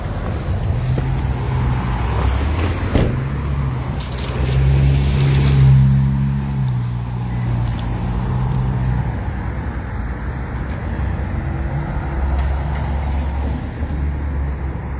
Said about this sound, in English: The cars are right next to you.